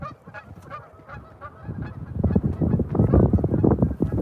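Geese honk repeatedly beside water on a morning catfishing outing, a dense, overlapping flock chorus that starts moderate and swells louder and busier toward the end, with no talk over it.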